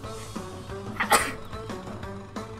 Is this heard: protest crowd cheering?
no